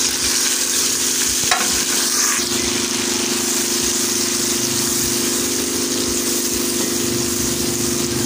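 Masala goes into golden browned onions in a pot, giving a continuous frying hiss with a brief stir and clatter early on, all over a steady mechanical hum, with no talk.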